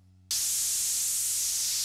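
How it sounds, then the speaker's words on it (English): A basic synthesizer noise oscillator switches on abruptly after a brief quiet moment, then holds a loud, bright, steady hiss with a filter sweep as part of an electronic track breakdown. "We have a basic noise oscillator"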